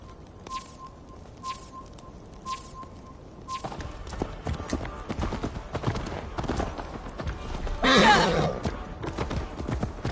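Horse hooves clip-clop in the Assassin's Creed Valhalla video game, faint and intermittent at first, then a steadier run of hoofbeats over outdoor ambience with a louder burst near the end.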